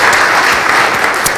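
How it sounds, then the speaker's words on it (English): Church congregation at a Sunday worship service in Big Sky applauds in honor of a community member, loud, dense and continuous clapping filling the room at a steady level. "we're going to applaud Domi for all that."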